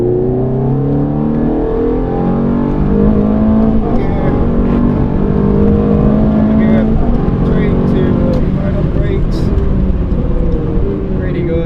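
A Ferrari engine revs hard on the Mondello Park race track, its loud, steady rising whine filling the cabin, with someone talking over it throughout.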